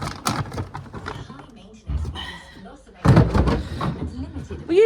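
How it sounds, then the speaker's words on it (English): A horse kicks its wooden stable door, giving sharp thuds and bangs that ring out loudly among close voices of people talking in the stable. "Will you stop kicking your stable door?"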